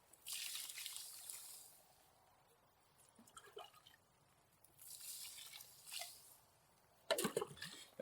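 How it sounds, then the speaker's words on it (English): Water is poured into an adobe cob mix of clay and soil in several quiet bursts, soft trickling and splashing separated by pauses, with a sharper scrape or clatter near the end. "So then I have to add more water."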